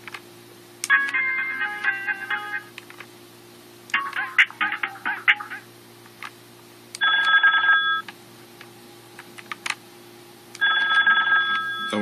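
Cisco IP desk phone ringtone: several bursts of bright electronic warbling ring, each lasting about a second or more, separated by short pauses, loud and close with no talking.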